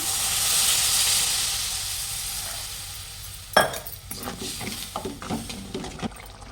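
A soft, steady hiss of chilli-spiced fish curry simmering in a pan, then a spoon stirring and scraping with small clinks.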